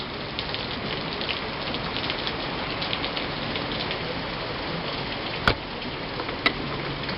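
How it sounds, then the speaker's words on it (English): Heavy rain pours steadily in a dense, continuous wash outdoors, with two sharp knocks late on and no voices. "the rains came in earnest just about the time we're finished cooking our peppers"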